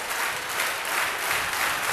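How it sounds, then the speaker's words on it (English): Crowd cheering and applauding at a men's volleyball semifinal at St. Ambrose, a steady, dense roar of noise filling the whole two seconds without a break, fairly close and loud. "you can hear the crowd really get into it here"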